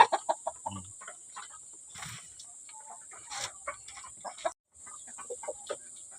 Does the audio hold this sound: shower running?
no